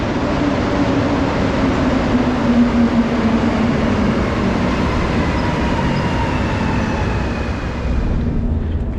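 Inside a moving metro train, a loud, steady rumble and roar of wheels on rails fills the car, with a faint whining tone running through it and no talking.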